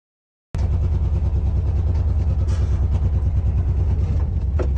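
A car on a test drive runs with a steady, pulsing mid-pitched engine drone up close, starting abruptly after a brief silence and holding constant throughout.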